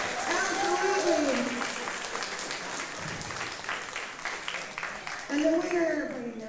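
A crowd claps and cheers for two female junior boxers after their 155 lb match, steady applause filling the hall while an announcer speaks over it at the start and end.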